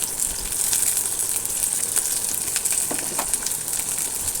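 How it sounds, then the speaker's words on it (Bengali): Dried chillies, garlic, green chillies, cashews and melon seeds frying in oil, a steady dense sizzle with bubbling crackle running close and continuous throughout, no talk over it. "তেলের মধ্যে ভালো করে নাড়াচাড়া করে ভেজে নেব।"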